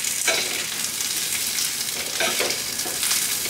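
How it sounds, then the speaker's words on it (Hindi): Capsicum and green chilli sizzle in oil in a pan over low heat, a steady close hiss with soft stirring scrapes and no talk. "अभी थोड़ा सा हम ये शिमला मिर्च इसमें डाल के फ्राई करेंगे। शिमला मिर्च से थोड़ा ग्रीन चिली भी फ्राई कर लेंगे हल्का सा।"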